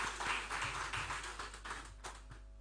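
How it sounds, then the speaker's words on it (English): Audience at a business forum applauding a speaker, a fairly faint, roomy patter of clapping that thins out toward the end. "A round of applause for her."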